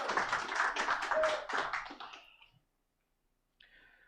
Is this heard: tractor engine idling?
no